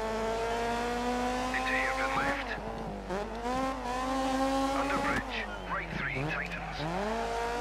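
Colin McRae R4 rally car from the game Dirt 3, its engine revving loud and steady through gear changes with tire squeal in the corners, up close and continuous.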